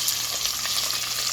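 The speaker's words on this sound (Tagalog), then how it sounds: "We are cooking, frying chicken." Chicken fries in hot oil with a steady, close, crackling sizzle and dense bursts of spattering and no voices.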